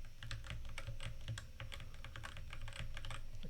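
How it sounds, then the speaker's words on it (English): Quiet, steady typing on a computer keyboard while entering data values, a fairly even run of soft key clicks at close range with no talking. "I type all the x values."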